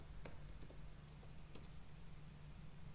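Light typing on a computer keyboard, a scattering of soft, quick key taps over a quiet low hum, faint and close.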